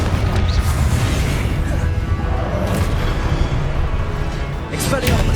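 A Confringo blasting spell explodes in Hogwarts Legacy, a booming burst amid loud continuous combat noise, with a couple of sharper cracks near the start and end.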